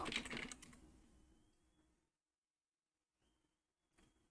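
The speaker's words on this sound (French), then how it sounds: "Et je vais taper Hider." A quick flurry of keystrokes on a computer keyboard as a command is entered, close and clicky at first, then trailing off into silence before a couple of faint final taps.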